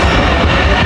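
The Sandal Express passenger train arrives at a railway station, a loud, dense rumble of rolling stock filling the whole moment.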